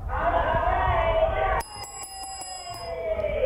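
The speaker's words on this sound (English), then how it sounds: "Ring that bell, Bailey." A bell rings in a quick series of bright, clear strikes, partly over a busy murmur of crowd noise and background chatter.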